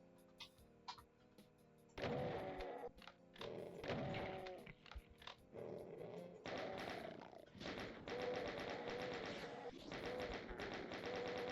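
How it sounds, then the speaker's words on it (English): Rapid chain gun fire in Doom TNT, a dense run of repeated shots that starts abruptly and keeps going loud and close with brief gaps, layered with game effects under occasional talk. "I'm just using the chain gun because I got plenty of ammo"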